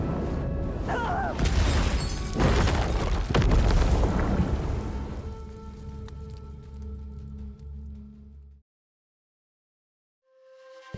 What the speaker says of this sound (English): Qian Ye then struck him with her blade, and a large explosion followed.